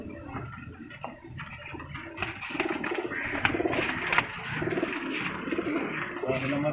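Pigeons kept for competitive flying coo and flutter in a rooftop loft, their soft repeated calls mixed with chatter and movement from handlers talking nearby.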